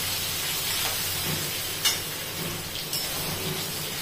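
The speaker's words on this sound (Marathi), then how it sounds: "अद्रक छान आपल्याला परतवून घ्यायचंय." Grated ginger sizzles in hot oil in a pan with cumin and asafoetida, a steady close frying hiss with a couple of brief sharper crackles and no talking.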